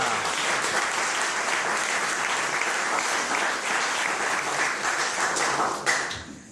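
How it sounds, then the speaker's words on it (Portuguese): Sustained applause from a church congregation at a youth camp fills the space, a dense, even wash of many clapping hands that fades near the end. "Você pode aplaudir a Deus porque você é mais que vencedor."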